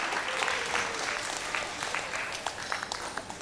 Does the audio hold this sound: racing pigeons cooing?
no